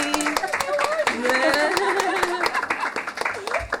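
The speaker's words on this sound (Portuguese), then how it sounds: "Palmas para a Aline." Scattered hand claps ring out from a lecture audience for a participant, sharp separate smacks running under continuous nearby talking.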